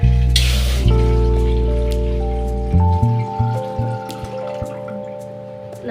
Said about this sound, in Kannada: ನಾನೀಗ ಒಂದು ತಂಬಿಗೆ ನೀರನ್ನ ಹಾಕ್ಕೊಳ್ತಾ ಇದ್ದೀನಿ